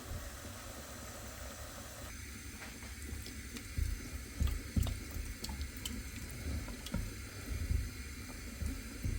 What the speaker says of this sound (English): I'm just going to get some water in there